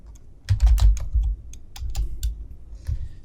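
Computer keyboard typing into a text input field, with a quick cluster of clicky keystrokes and then a few scattered single taps, close and clear with no voices.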